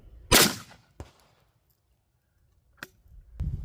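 A 12-gauge shotgun fires an armor-piercing shell at a cinder block, one loud sharp blast followed by a brief impact crack, then quiet with a couple of faint knocks and rustles.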